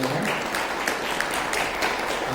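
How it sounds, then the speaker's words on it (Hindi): An audience claps for a yoga and mudra instructor, a moderately quiet but continuous patter of many hands at an even pace from start to finish. "चलिए मैम के लिए एक बार बहुत जोरदार ताली बजा दीजिए डॉक्टर धोनी के सामने"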